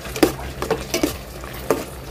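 Garlic, onion and ginger sautéing in a home kitchen pan, with a few distinct spatula scrapes and clinks against the pan over a low, steady sizzle.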